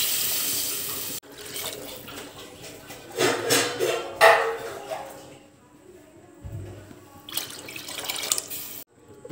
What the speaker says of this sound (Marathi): आता आपण पाणी टाकूया।